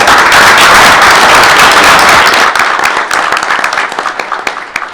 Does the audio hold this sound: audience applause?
yes